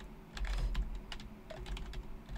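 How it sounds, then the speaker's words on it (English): A computer keyboard sits right beside a microphone during a Binding of Isaac game session, with rapid, close clicking and clacking of keys that continues steadily with no talk. "You're also probably gonna hear a lot of clicking because my keyboard is right next to my mic."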